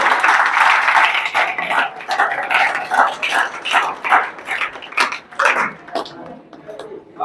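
An award-ceremony audience claps in a dense, steady patter of many hands, loud and close, tapering unevenly near the end as a voice talks over it.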